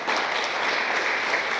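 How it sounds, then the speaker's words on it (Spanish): A church congregation applauds in praise, a thick, even burst of many hands clapping together, close and loud with no talking over it. "denle palmas al Señor"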